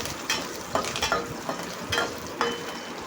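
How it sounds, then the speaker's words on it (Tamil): Curry leaves crackle and sizzle in hot oil, with short spitting bursts popping every half second or so over a steady frying hiss. "கருவேப்பிலை போட்டு நல்லா பொரிஞ்சு வரட்டும்"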